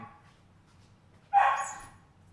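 A dog gives a single sharp bark that rings out and fades, after a quiet stretch with a low hum in the background.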